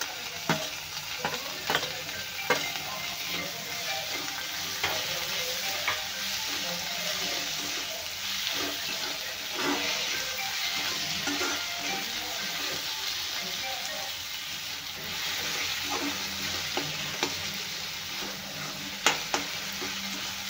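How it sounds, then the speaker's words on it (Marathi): Tomatoes fry in oil in a home kitchen after a spoonful of salt, with a steady sizzle and occasional scraping stirs and clicks of a spoon against the pan, close and continuous. "टोमॅटो व्यवस्थित तेलामध्ये भाजून घ्यायचा आहे"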